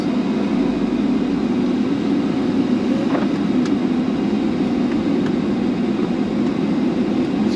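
A 2021 Mercedes-Benz GLB250 with a 4-cylinder turbo engine drives along, heard from inside as a steady, smooth low hum under road noise, with no talk.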